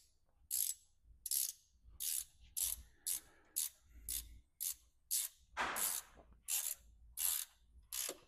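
Ratchet wrench at work on a John Deere 4230 tractor transmission rebuild: a dozen or so crisp, close bursts of rapid clicking in an even back-and-forth rhythm, with short quiet gaps between strokes.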